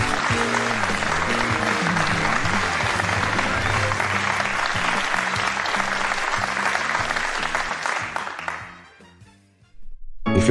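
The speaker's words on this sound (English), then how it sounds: "Give us a cheer featuring." Cheering and applause in an animated rapper-day cartoon, a dense loud burst of crowd clapping and whooping lasting about eight seconds, then fading out quickly.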